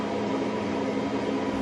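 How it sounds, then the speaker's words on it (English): A Performa clothes dryer, whose drum is not tumbling, runs with a steady, even motor hum that stays level from start to finish and carries no voices. "Set the timer on the beginning of the cycle and start the dryer."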